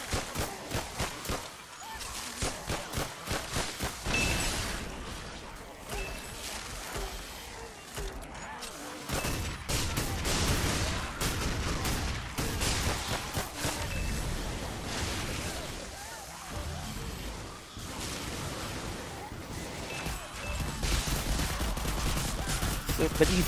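Rapid gunfire from weapons in the VR game Dead Ground Arcade, dense bursts of loud shots with short pauses between volleys, and someone talking over parts of it.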